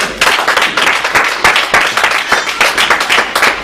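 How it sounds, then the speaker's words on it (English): A church congregation claps together in praise of Jesus, a dense wash of many hands with sharp rhythmic peaks, loud and close throughout. "Come on, clap for Jesus."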